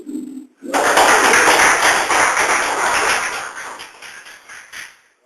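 A church congregation clapping for Jesus during a service, a loud, dense wave of hand claps that begins abruptly after a brief voice, then gradually fades over several seconds.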